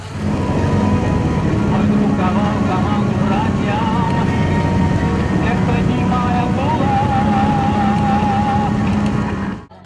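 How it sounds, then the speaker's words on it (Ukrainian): Loud motorcycle engines roar steadily without pause as a biker convoy passes through Poltava streets at a bike festival, several motors revving and droning together close by. "колона байкерів сколихнула вулиці обласного центру звуками своїх моторів"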